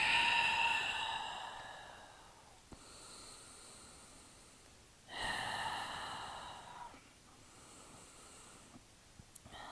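Slow, audible breathing held through a yoga pose, with long airy inhales and exhales rising and fading in a calm rhythm, close and fairly soft, with no talking over it.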